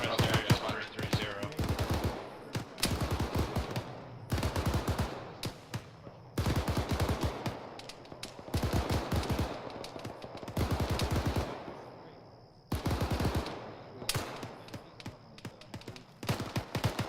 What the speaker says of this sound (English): Sounded like a machine gun.